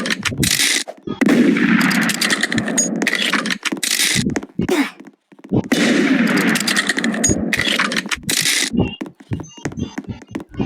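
Rapid gunfire bursts in a video game, long dense volleys of close, loud shots with metallic clanks, broken by short gaps and a few scattered single shots.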